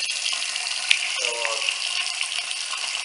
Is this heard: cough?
no